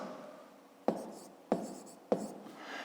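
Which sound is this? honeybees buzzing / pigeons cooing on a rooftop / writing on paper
writing on paper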